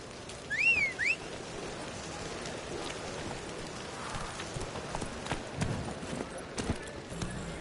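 Roach the horse's hooves clop at a run over ground in The Witcher 3, steady and moderately near under rain-like ambience, with a brief whistle early on.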